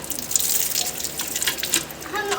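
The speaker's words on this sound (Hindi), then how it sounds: "मैं भी नहा रही हूँ नलके पर" Cold water runs steadily from a tap while someone bathes under it, a continuous splashing hiss with brief spattering surges and a faint voice near the end.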